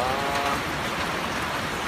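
Rain falls steadily on a rural farm, a continuous close hiss of drops hitting surfaces at an even level with no talk.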